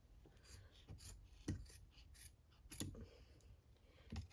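Scissors trim fabric and batting around an embroidery hoop, giving a handful of quiet, close snips spaced irregularly over soft rustling.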